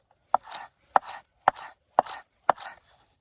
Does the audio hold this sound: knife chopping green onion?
yes